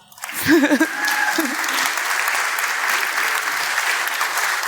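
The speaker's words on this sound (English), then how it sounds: "That deserves an applaud." An audience breaks into sustained applause that holds steady for several seconds after a short vocal sound at the start.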